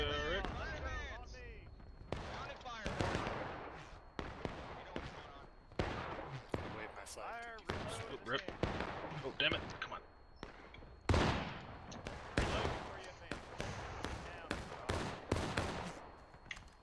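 Skirmishers fire rifle volleys in War of Rights, a run of loud scattered shots, some near and some farther off, crackling across the scene while a voice talks over them.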